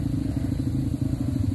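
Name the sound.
motorcycles riding on a dirt trail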